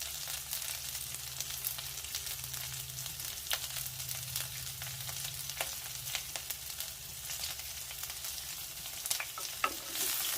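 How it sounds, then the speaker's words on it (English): Chopped carrots and beans sauté in a pan for millet noodles, a steady low sizzle with soft stirring scrapes and occasional light clicks running throughout, with no talking. "Saute for a while."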